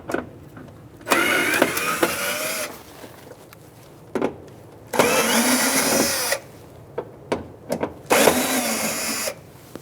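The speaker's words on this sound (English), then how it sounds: "Using a Phillips head, we're going to take out these 3 screws." Power driver removing Phillips screws from the front inner fender liner of a 2002-2006 Toyota Camry, three loud whirring bursts with faint clicks and handling noise between them.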